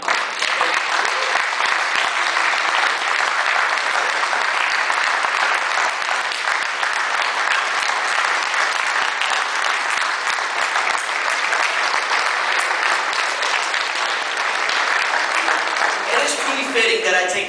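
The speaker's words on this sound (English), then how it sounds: "we have rendered a round of applause for these Korean War veterans" An audience at a West Point alumni dinner in Tampa gives Korean War veterans a round of applause, a dense, steady ovation that fills the room for about seventeen seconds before tapering off at the end.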